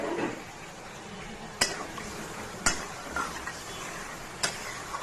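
A spoon scrapes and stirs spiced gravy in a pan for puti fish curry, with soft sizzling underneath and three sharp utensil knocks against the pan.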